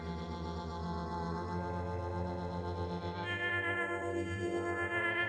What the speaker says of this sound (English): you can hear that filter opening up, closing up